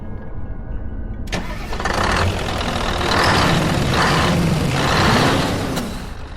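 A truck engine on a deserted road cranks with a sharp starter burst, catches, then settles into a low, steady idle with a few gentle revs, loud and close with no talk.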